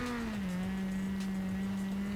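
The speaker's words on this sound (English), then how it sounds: "Downshifting into 3rd through that turn as well." Engine of a rally car in the WRC video game at Rally Kenya Kasarani, downshifting into third through a turn: a loud, steady engine tone that drops in pitch early, then holds a sustained drone with no talk over it.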